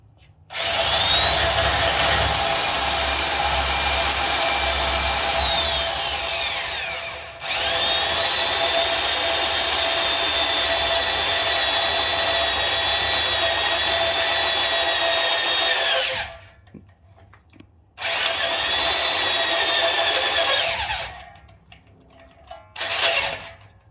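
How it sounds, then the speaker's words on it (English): A power drill with a 3/4 inch bit whines steadily and loudly through long bursts, boring into wood, with short pauses between runs and a final brief spin. "Drill this out with a 3/4 inch bit."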